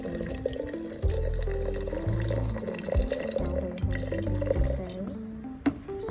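Water poured into a container to rinse, a close splashing and gurgling fill with dripping, fairly quiet and continuous before tapering off near the end.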